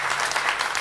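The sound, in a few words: audience applause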